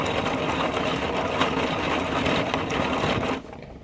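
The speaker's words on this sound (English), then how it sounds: "you lock up reverse, and it causes the wheels to spin backwards" A small automatic transmission model running in reverse gives a steady, even mechanical whir of meshing gears that holds constant and then drops off abruptly near the end.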